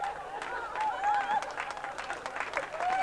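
Audience clapping rises and falls in a comedy sketch, fairly faint and dense, with scattered voices and whistle-like tones running over it.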